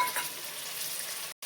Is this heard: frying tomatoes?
yes